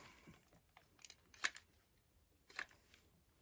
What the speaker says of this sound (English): I think I'll cut it and glue this piece.